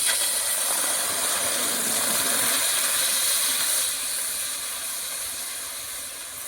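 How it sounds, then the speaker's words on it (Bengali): Water poured into a hot iron kadai for a village-style jujube pickle sends up a loud, continuous steaming hiss that holds strong, then slowly fades over several seconds, with no voices. "এই কড়াইয়ের মধ্যে আমি জল দিয়ে দেবো।"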